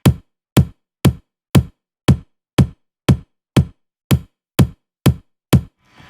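Synthesized kick drum in Metrum, a body sample layered with a spike transient, struck about a dozen times at a steady even pace, each hit a punchy thump with a bright click on top, decaying quickly.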